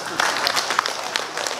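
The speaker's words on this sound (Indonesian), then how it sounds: "Tepuk tangan untuk kita." Applause at an official inauguration ceremony for a trade union leadership, a short burst of clapping from a crowd, moderately loud and close, with a voice speaking over it.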